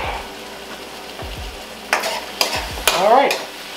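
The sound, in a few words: mushrooms cooking in a pan, liquid cooking off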